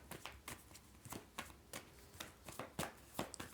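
Tarot cards being shuffled by hand: a faint, steady series of soft riffling taps repeating about every third of a second, close but quiet, with no talk.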